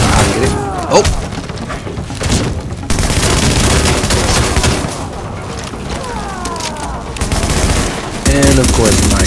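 Sustained automatic gunfire in The Division during a refugee camp daily mission, dense rapid bursts filling the whole stretch with heavy booming impacts, a player talking over the shooting.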